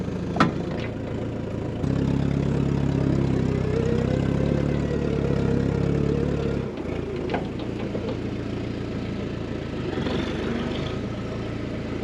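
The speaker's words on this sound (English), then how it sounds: "see if we can get that tractor started" A 105 tractor used to pull an orchard sprayer idles with a steady, low, rumbling drone that stays close and even throughout, with a few small clanks over it.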